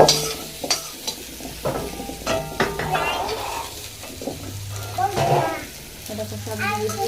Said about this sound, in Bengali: মুড়িগুলো ভেজে দেবো এখন এর মধ্যে পেঁয়াজ ধনে পাতা সব দিয়ে ভাজছি